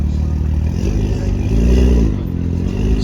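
A BMW M2 with an N55 engine revs at a car meet, a loud, close, deep rumble that rises as the revs climb in the middle, then settles back to a steady idle.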